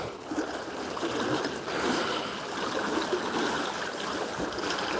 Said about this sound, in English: That one lets a little water out here to water these trees.